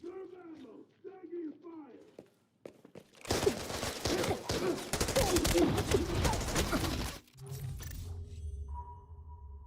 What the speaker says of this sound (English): I heard an AKM begin to fire, and then an AEK and an AK-12 return fire.